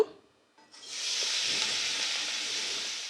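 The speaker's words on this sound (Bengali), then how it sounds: "এবার আমি ভাজার জন্য এর মধ্যে ডালটা দিয়ে দেব" Washed lentils hitting a spoonful of hot white oil in a wok and frying with a loud, steady sizzle that bursts in after a brief quiet start and holds on.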